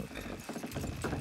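Horse hooves clip-clopping in Red Dead Redemption 2, a short run of soft, uneven hoofbeats over low rumbling game ambience.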